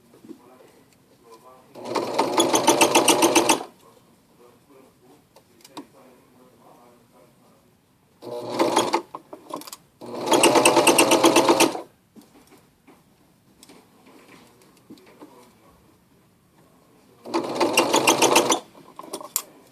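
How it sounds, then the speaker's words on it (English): A serger stitches fabric in short, loud bursts of rapid mechanical chatter, with quiet pauses between runs where the fabric is repositioned. A person talks softly in the gaps. "sergers are not meant to serge on curves. They want to do straight lines."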